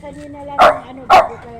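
Two sharp dog barks about half a second apart, close by, over a person speaking casually.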